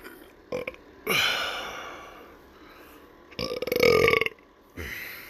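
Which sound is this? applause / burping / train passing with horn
burping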